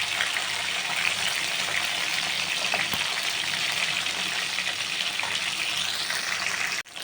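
Mustard seeds, cumin and urad dal fry in hot oil with a loud, close, steady hiss of sizzling that runs unbroken and then cuts off abruptly just before the end.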